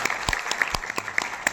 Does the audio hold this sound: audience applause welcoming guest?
yes